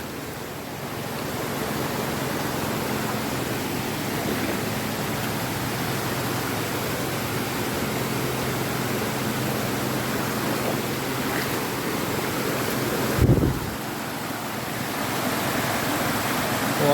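A strong river rushes in a steady, loud broadband roar that fills the whole stretch, with one brief low thump partway through and no voices.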